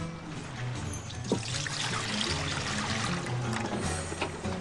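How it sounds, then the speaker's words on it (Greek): Water pours steadily into a cooking pot in a home kitchen as the first step of a Halki-style kakavia fish soup, a close, continuous splashing stream with no talking. "Πρώτα θα βάλουμε το νερό στην κατσαρόλα."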